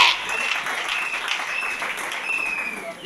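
A church congregation applauding, a dense continuous clatter of many hands with crowd noise and faint voices mixed in, steady and loud throughout.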